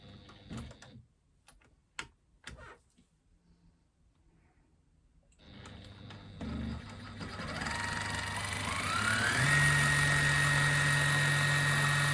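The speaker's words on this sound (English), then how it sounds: "So I'm going to have to thread up a green bobbin." A sewing machine winds a green bobbin. A few sharp clicks and handling sounds come first, then the motor starts up and runs in a rising, steady whine close by with no talk.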